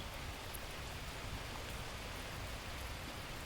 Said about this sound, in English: And rain again.